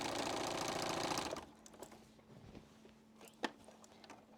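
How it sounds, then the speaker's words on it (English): A sewing machine stitching down quilt binding runs in a fast, steady burst for just over a second, then stops, leaving faint handling clicks and a soft thump in a quiet room. "I'm going to sew that down."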